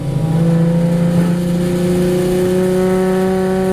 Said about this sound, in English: Also, the Spec Caymans coming out here today with Gregory Wagner starting 12th.